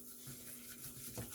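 A butter and flour roux being stirred in a pan, giving a soft continuous scraping and sizzling texture, quiet and close, with no voices.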